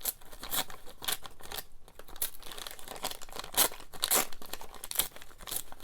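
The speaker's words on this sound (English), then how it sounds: "what a lovely noise it makes when you tear it" Paper for a junk journal is torn by hand up close, producing a series of crisp, uneven rips and crinkles in quick bursts with no talking.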